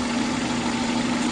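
A car engine with an electronic fuel injection system idles with the injection sensor socket unplugged, giving a steady, loud, close hum with a constant low drone and no talking.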